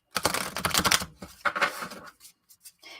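A small tarot deck is shuffled and bridged by hand, giving bursts of rapid riffling card flutter up close, then scattered soft taps and clicks as the cards settle.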